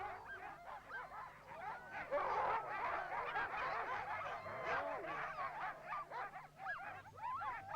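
Several sled dogs yelp and whine excitedly in a restless chorus, overlapping high cries with a low steady hum underneath.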